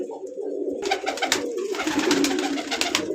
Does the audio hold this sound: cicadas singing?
no